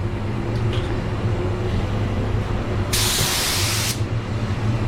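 A 3M Performance spray gun sprays paint onto a white car, a single loud burst of hissing spray lasting about a second over a steady low hum of background machinery.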